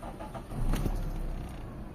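A Toyota Corolla with a distributor timing fault cranks and catches, and the engine settles into an idle of about 700 to 800 RPM, a steady low rumble after a short louder burst at startup.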